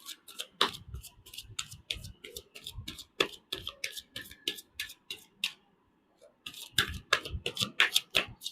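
A deck of tarot cards is shuffled by hand with crisp riffling snaps and flicks in quick irregular bursts, close and clear, with a short pause before the shuffling resumes.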